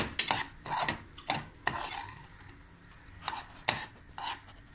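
A spoon scrapes and stirs walnut halwa with sugar in a pan, giving a series of irregular close scraping strokes with short gaps between them.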